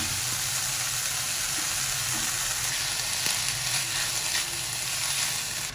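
Shredded chicken fries with roasted flour in a pan, a dense, even sizzle that holds close and loud throughout, with a few faint stirring scrapes and no talking.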